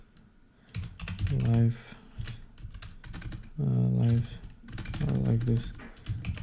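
Computer keyboard keys clicking quietly as a command is typed into a terminal, light irregular taps running under a voice talking throughout.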